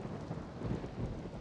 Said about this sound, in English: Oh, now it's raining again.